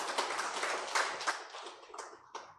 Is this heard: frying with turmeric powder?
no